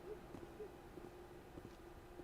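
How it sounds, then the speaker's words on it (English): A bird hooting in the Mass Effect 1 video game, an owl-like call repeating several times at a steady pitch, faint and in the background over a low ambient game hum. "It's a bird?"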